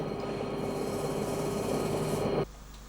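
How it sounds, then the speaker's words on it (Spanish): An electric polishing brush runs steadily over silver filigree pieces in a jeweller's workshop, a continuous whirring, abrasive buzz that stops abruptly near the end, leaving quiet. "Después, hay que repasarlas con el cepillo eléctrico."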